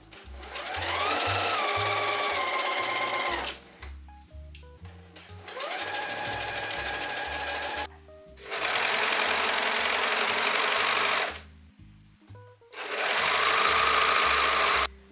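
A sewing machine sews a seam on a puffy cloud dress in four loud, close bursts of fast whirring stitches, with brief pauses and motor pitch shifts between runs.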